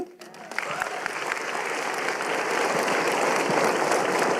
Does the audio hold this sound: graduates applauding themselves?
yes